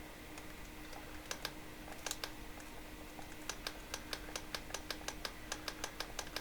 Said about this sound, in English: And we have the click.